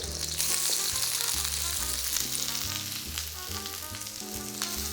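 Onion and garlic fry in a pan for a copycat chow mein, giving a loud steady sizzle with crackles throughout, set against a low repeating musical pattern and no speech.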